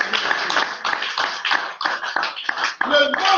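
A church congregation clapping in a steady rhythm, a dense run of close hand claps that continues throughout while a voice speaks over it.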